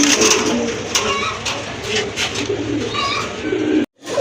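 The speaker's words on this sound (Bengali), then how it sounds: "আরেক জোড়া কবুতর আছে এখানে মাশাআল্লাহ" Fancy pigeons for sale coo in low, rolling calls amid a noisy background of chatter and bustle, ending with a brief cut.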